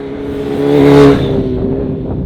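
A 370 bhp TTS SuperBusa, a turbocharged Hayabusa motorcycle, runs at full throttle, its loud engine note climbing to a peak and then holding a hard, steady roar.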